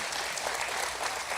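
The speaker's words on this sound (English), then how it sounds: "Can we go ahead and give her another round of applause?" Brief burst of steady audience applause for a little girl who has just played piano at a 4-H county fair youth talent show, dense and even at close range.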